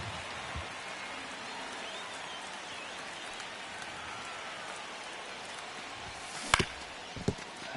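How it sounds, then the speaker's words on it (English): Steady rain falls in the baseball video game MLB The Show 25, a continuous even hiss of drops that runs throughout with no talk, broken near the end by a couple of short sharp knocks. "Looks like it's raining now."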